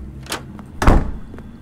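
An old door in The Curse of Blackwater opens with a short creak followed by a heavy wooden thunk, loud and close, then fades out.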